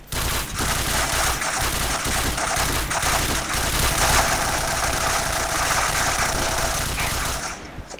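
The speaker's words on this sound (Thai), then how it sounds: "ให้ ยิงเป็นชุดนะครับ ชุดละประมาณ 2-3นัดแบบนี้นะครับ" Black Kiss s.v. paintball marker fired in rapid bursts of two or three shots, a dense, loud, continuous crackle of firing that runs almost the whole time and stops near the end.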